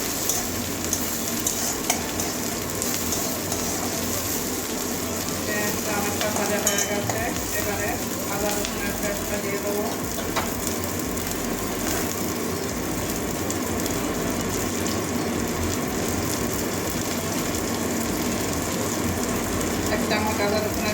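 Chopped onions with slit green chillies fry in a hot pan for a Bengali katla fish-head and pui shak curry, giving a steady, unbroken sizzle with occasional stirring scrapes throughout, close and fairly loud, with no talking.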